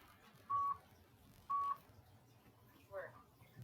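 Two short electronic beeps a second apart, followed by a softer tone, sound faintly over a quiet background as the workout timer counts down.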